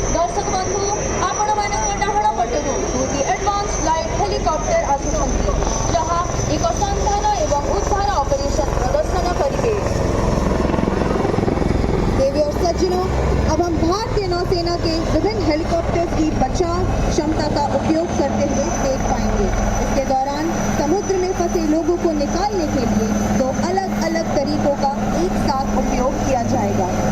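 An Indian Navy Advanced Light Helicopter flies overhead during a Navy Day display at Puri, a steady loud rotor and engine roar throughout, with commentary talk over it.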